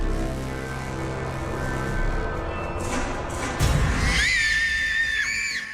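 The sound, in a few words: blood-curdling scream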